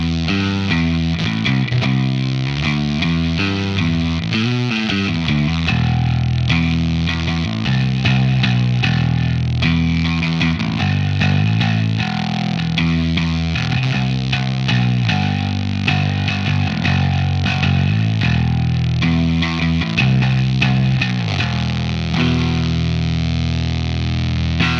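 A bass guitar runs through a Zander Circuitry fuzz pedal with the gain turned down, so much of the clean bass signal stays present: a steady, loud, gritty fuzzed bass line played continuously for the whole stretch, with no talking.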